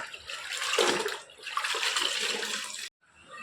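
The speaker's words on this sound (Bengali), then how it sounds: "জামা কাপড়গুলো ধুয়ে নিচ্ছি।" Clothes being washed by hand with water, a continuous splashing and sloshing wash close by that breaks off abruptly near the end, then a brief softer trickle.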